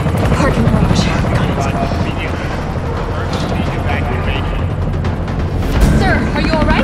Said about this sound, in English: There's a helicopter waiting to take you to safety.